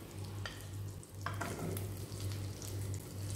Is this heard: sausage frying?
yes